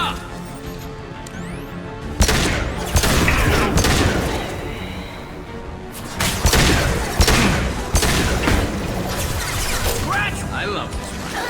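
Sniper rifle fire in Mass Effect 2 rings out as several heavy, sharp cracks spaced a few seconds apart, loud and close among dense combat noise and clatter.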